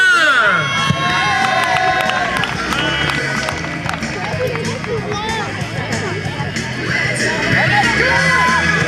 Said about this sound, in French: on peut les applaudir très très très fort, les 8 finalistes de la catégorie des poussins